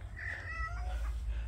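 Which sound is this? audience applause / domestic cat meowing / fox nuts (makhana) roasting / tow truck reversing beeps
domestic cat meowing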